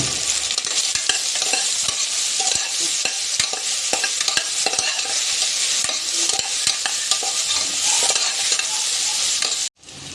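Chopped banana cooks in ghee in a pan, giving a loud, constant sizzle while a spoon scrapes and taps rhythmically against the pan, close up, with no speech; the sound cuts off abruptly near the end.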